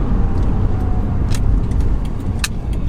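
A Subaru Impreza WRX S Prodrive engine roars steadily up close as it accelerates, a dense low rumble with a few faint ticks and clicks above it.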